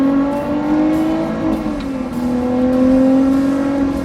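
A 2020 Lotus Evora GT engine revs hard and holds a steady high-pitched drone against the rev limiter, loud and close from inside the cabin, with a slight dip and rise in pitch.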